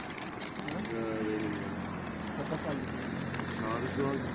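Pigeons coo repeatedly in soft, low rolling calls amid steady outdoor background noise and faint voices.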